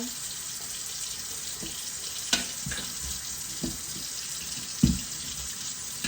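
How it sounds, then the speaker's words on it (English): Limes are scrubbed with soap under a running kitchen sink faucet, a steady hiss of water with occasional soft knocks and rubbing sounds close by. "Dump these in the sink, and we're going to give these a scrub"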